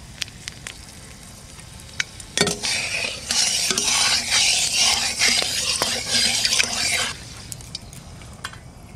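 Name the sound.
dried chillies and whole spices frying in mustard oil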